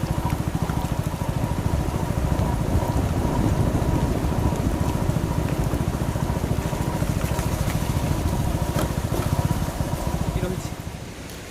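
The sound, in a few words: heavy rain falling with roaring water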